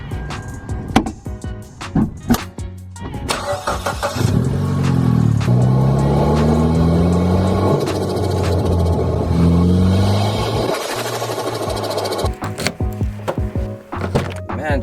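A turbocharged Mitsubishi Evo X with an AEM cold air intake, its engine revving hard with a rising turbo spool and loud intake roar. A few sharp knocks come first, then long rising surges of intake noise, close and loud.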